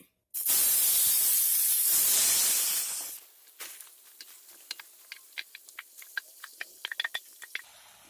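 Marinated chicken dropped into hot oil in a pan for a Kerala-style chicken fry, a loud sharp sizzling hiss that fades after a few seconds into scattered spits and crackles.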